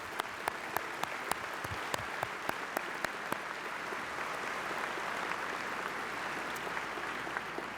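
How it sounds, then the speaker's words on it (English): Steady applause from a large audience fills a high school graduation ceremony for the class of 2017, a dense wash of clapping with a few sharper nearby claps standing out, and no speech. "let's take a second to applaud the parents, staff, and community members who have supported these scholars over the last 12 years"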